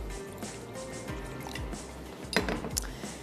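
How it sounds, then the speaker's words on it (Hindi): Water being stirred into a thin liquid batter with a whisk for lehsan wale chawal, giving repeated close wet drips, squishes and light clinks against the bowl, with a couple of sharper splashy strokes near the end. "पानी ऐड करके इसको विस्क की मदद से अच्छा सा मैं मिक्स कर लेती हूँ"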